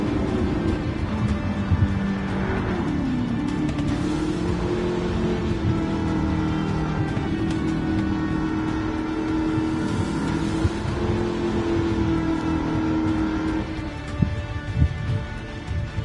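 A race car engine in Gran Turismo 7 holds a steady droning note with slight pitch bends and a constant noisy wash of tire and wind sound, loud and unbroken.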